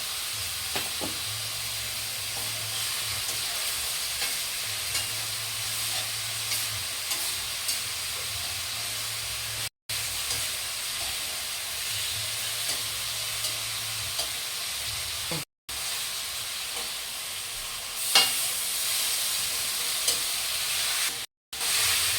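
Chicken adobo stirred while frying in a pan, a steady close sizzle and hiss with scraping stir sounds running throughout, briefly interrupted by short cuts, no voices.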